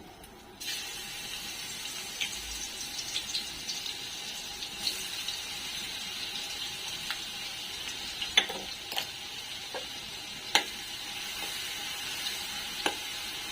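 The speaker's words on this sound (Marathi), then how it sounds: "चला आता आपलं तेल तापत आलेले आता हे लसूण खोबरं आपण टाकू त्याच्यात" Garlic and grated coconut hit hot oil for a tempering, starting a sudden steady sizzle that crackles on with scattered sharp pops and occasional stirring clinks, close and continuous.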